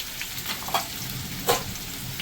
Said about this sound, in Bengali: এবার এটা হয়ে গেছে রসুন কুচিটা। এবার দেবো পেঁয়াজ কুচি।